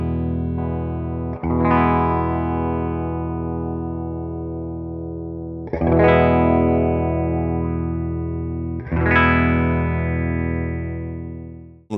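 Electric guitar played through a BOSS PX-1 emulating the SP1 Spectrum, the first pedal Boss released, with three loud strummed chords, each ringing out long with a bright, filtered, sustained tone.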